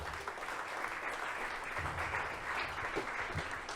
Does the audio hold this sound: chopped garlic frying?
no